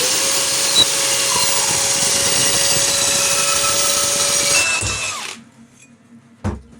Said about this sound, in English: And we have to saw this off.